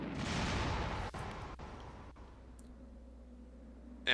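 A rocket launcher fires at the Tyrant in the Resident Evil game: a deep, broad rumbling blast that swells and rolls, then trails into a lower sustained hum with a few sharp clicks.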